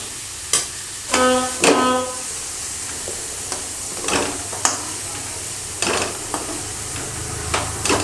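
Potatoes frying in hot oil in a pan, a steady low sizzle broken by scattered stirring clinks and scrapes, with one short buzzing tone near the start.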